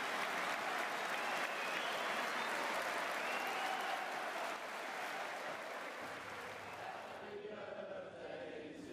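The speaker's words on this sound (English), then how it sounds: "the crowd stand up and applaud Petrov due to his number 19 squad number as a sign of respect" A football crowd stands and applauds Stan Petrov in the 19th minute, in honour of his number 19 shirt. Sustained, dense stadium applause rolls on from a distance, then thins slightly near the end.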